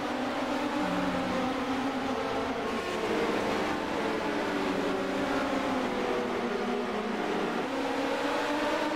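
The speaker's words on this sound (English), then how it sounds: "We're currently watching Rhett Tucker. Rhett in the 99 machine" ARDC midget race cars racing around a track, their engines blending into a continuous, loud droning roar with shifting pitch that carries steadily through the whole stretch, with no voices.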